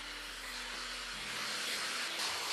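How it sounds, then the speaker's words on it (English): Steady broadband airflow roar from a Shark FlexStyle hair dryer blowing close by, with a low motor hum beneath and no talking. "It seems to be drying my hair very well."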